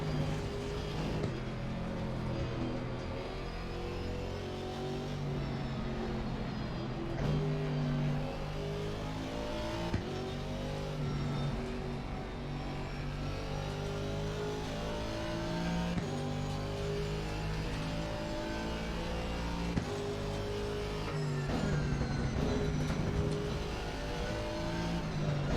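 Aston Martin race car in Assetto Corsa Competizione pulling away from a race start in a weak first gear, its engine a loud, steady drone with stepped pitch rises through the gears, running continuously with no voices.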